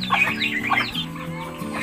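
Rhode Island Red roosters cluck in their free-range area at a breeding house, giving a steady run of close, overlapping clucks and squawks with no voices heard.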